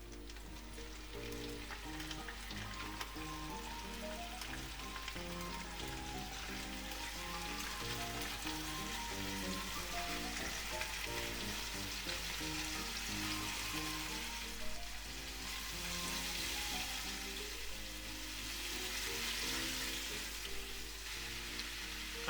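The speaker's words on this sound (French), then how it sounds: "on va déposer nos morceaux de viande que l'on va faire rôtir sur toute leur face" Pieces of meat searing in butter and a little oil in a cocotte for a daube with cèpes, a steady close sizzle and crackle running continuously and evenly throughout, with no talking over it.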